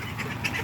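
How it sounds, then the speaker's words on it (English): A backyard flock of ducks quacks excitedly, several birds calling close by in overlapping, continuous bursts. "Ducks are excited."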